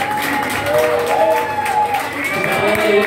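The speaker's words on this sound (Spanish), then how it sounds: "Un fuerte aplauso, un amigo de la banda." A crowd at a rock band's blues show claps and cheers for the bassist, dense and loud throughout, with whoops and shouting voices over the applause.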